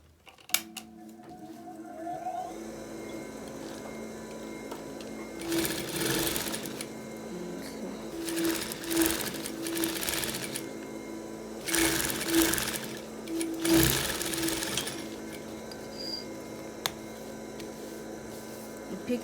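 A sewing machine stitches fabric over a bra cup in several bursts of steady whirring, separated by short pauses, close and clear above a low background hum.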